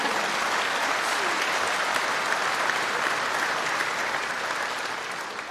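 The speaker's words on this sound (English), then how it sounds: "Oh, a round of applause" Audience at the BAFTA Games Awards giving a round of applause, a dense, steady roar of many hands clapping throughout, loud and sustained with only a slight tapering at the end.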